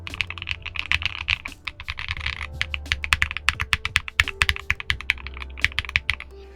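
Rapid typing on a mechanical keyboard fitted with Frankenswitch blue bonnet Gatoron switches, a close, steady stream of poppy clicks and clacks with occasional heavier thunks, no voices.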